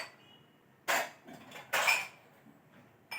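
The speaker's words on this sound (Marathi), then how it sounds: "भांडी लावते थोडीशी, वर ठेवते. थोडीशी भांडी लावायची." Dishes and utensils being put away in a home kitchen: a few sharp clinks and clatters of pots, plates and cutlery set down one after another at close range, with quiet pauses between.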